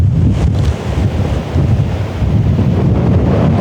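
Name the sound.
wind blowing down a valley over a choppy loch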